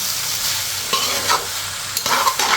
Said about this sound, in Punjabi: ਭਿੰਡੀ ਨੂੰ ਥੋੜਾ ਜਿਹਾ ਸੇਕ ਲਗਾਉਂਦੇ ਆ ਆਇਲ ਦੇ ਵਿੱਚ ਫਰਾਈ ਕਰ ਲੈਂਦੇ ਆ